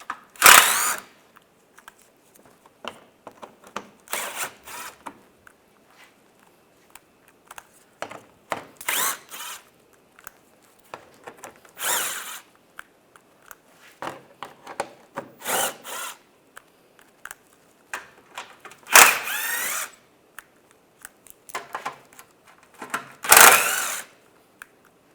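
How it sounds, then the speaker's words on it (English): A power drill spins a 10mm socket to back bolts out of the front bumper area of a 2014-2019 Toyota Corolla, in short bursts of whirring separated by quiet pauses. "Take all these bolts out."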